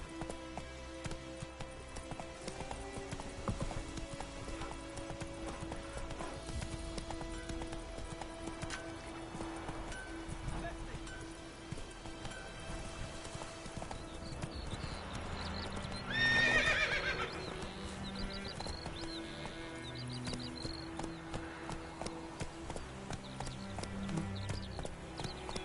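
Roach the horse gallops in The Witcher 3, a steady drumming of hoofbeats running throughout at moderate level, with a short whinny midway and rain-like patter in the background.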